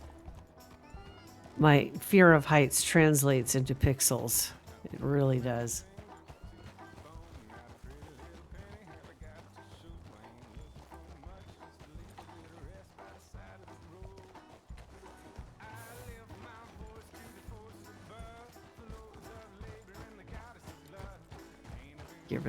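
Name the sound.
horse hooves while riding in a video game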